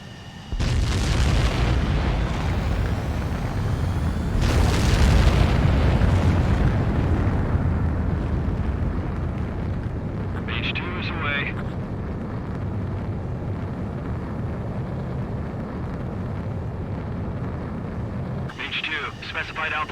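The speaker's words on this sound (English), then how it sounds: "begin takeoff sequence" A fighter jet takes off in the video game Ace Combat 7, a loud roaring engine rush with heavy low rumble and booming surges that holds for most of the span, heard under radio voices.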